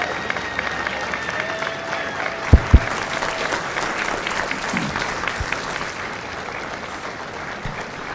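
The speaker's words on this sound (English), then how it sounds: "Ladies and gentlemen, a round of applause for their dedicated service to Corps and country." At a Marine Corps recruit graduation at MCRD San Diego, a large outdoor audience applauds continuously for about eight seconds, steady and broad, with a couple of sharp thumps and faint voices in the mix.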